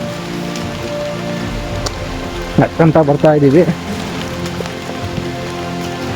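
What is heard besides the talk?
heavy monsoon rain during trek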